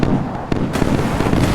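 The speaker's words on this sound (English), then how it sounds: "Look how much gunfire there is." Naval gunfire and missile interceptions in the naval warfare game Sea Power crackle as rapid, dense bursts of pops and booms, loud and continuous, with a sharper blast partway through.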